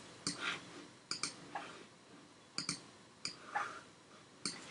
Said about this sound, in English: I'm going to right click and hit duplicate